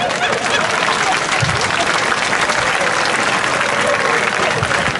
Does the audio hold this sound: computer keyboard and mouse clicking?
no